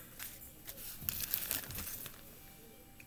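Paper towel holding pepper and tomato seeds being folded up, with quiet, close crinkling and soft rustles in a few short bursts, no talking.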